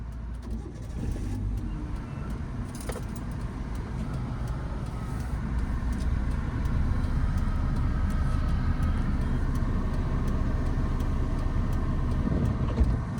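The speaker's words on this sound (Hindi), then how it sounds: "स्टार्ट ही नहीं हुई गाड़ी, पूरा सेल्फ मारिए" A car engine is cranked on the starter on a steep uphill slope in traffic after stalling, giving a steady, continuous low mechanical drone that grows slightly louder and carries on for the whole stretch with no voices.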